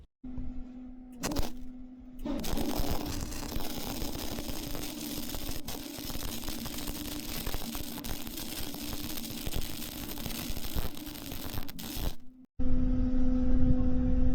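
An electric welder tacks a steel upright onto a 2007 Club Car golf cart, giving a long, loud, steady crackling buzz of about ten seconds that stops abruptly, with brief bursts and a lower hum before and after.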